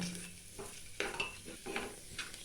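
Moong dal is dry-roasted in a pan and stirred with a utensil: quiet, close scrapes and rattles of the grains come in short strokes, with faint clinks between them.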